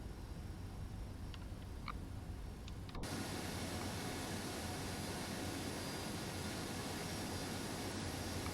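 A FedEx Boeing 767-300F freighter's jet engines spool up for takeoff on runway 3 at Albuquerque in the X-Plane 11 simulator, a broad steady roar that jumps suddenly louder and then holds, with no talk.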